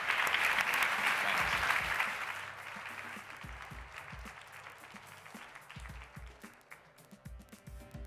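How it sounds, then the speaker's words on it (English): Audience applause at a women's leadership conference, loud dense clapping for about two seconds that fades into scattered claps and light crowd murmur. "Another round of applause, please."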